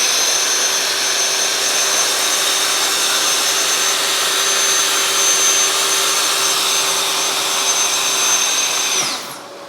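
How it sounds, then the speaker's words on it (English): A power saw runs continuously at close range, cutting a shallow crosscut pass about 1/8 inch deep in wood during a bathroom vanity build. It makes a loud, steady, high-pitched whir that drops away at the very end. "The solution, make a shallow pass first,"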